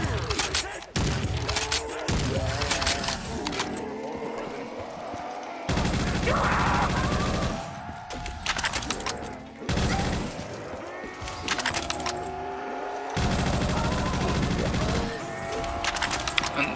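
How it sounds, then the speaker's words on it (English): Pump-action shotgun fire in Call of Duty, heavy blasts repeating every couple of seconds amid a dense, loud wash of game combat noise and explosions, with brief talk mixed in. "it's not a bad shotgun for just the"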